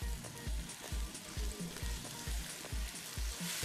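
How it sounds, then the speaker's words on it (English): A hot pan sizzles with olive oil and soy sauce under a dense hiss while a utensil knocks and scrapes the pan in a quick regular stirring rhythm, close and fairly quiet. "Stir it up."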